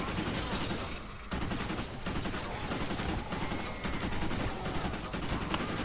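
Sunbeam Pain Train assault rifle in the Fortnite video game firing at husks, a loud, unbroken stream of rapid automatic shots that carries on for several seconds with only brief dips.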